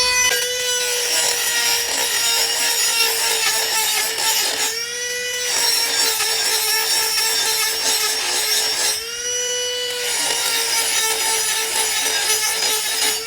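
A loud, continuous high-pitched grinding whine of a DongCheng cordless grinder cutting an 8 mm iron plate, briefly easing twice before biting in again.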